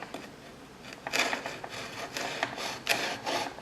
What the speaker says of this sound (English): you can hear it cut through the plastic